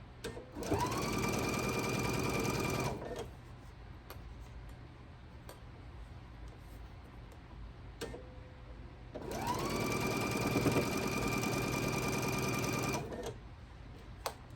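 A sewing machine stitches a quilt block in two sustained loud runs, with a quieter pause between them and the motor starting and stopping at each run.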